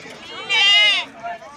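Male goats bleat at a busy weekly livestock market: one loud, drawn-out bleat close by, then a shorter, fainter call, over a low murmur of crowd voices.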